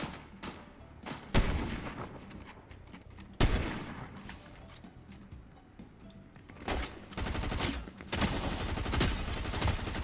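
Fortnite video game gunfire rattles in repeated bursts and single sharp shots, some loud and close, others softer in the distance, with rapid automatic fire building toward the end and no talking.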